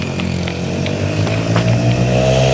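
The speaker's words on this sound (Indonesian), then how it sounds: "Ada motor guys" A motorcycle rolls along a village road with a steady mid-pitched engine drone that swells slightly as it goes by. It sounds fairly close and fills the whole moment, with no talking over it.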